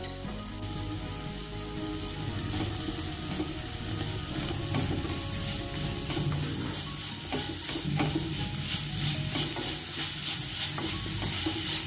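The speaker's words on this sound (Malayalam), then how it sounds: "1/4 കറിവേപ്പിലയും ഇതിലേക്ക് ആവശ്യമായ ഉപ്പും കൂടി ചേർത്ത് നന്നായിട്ടൊന്ന് വഴറ്റിയെടുക്കാം" Curry leaves and salt sautéing in a pan for a Kerala beef pepper roast make a continuous close sizzle, broken by scraping stirs and small clinks, with no talking.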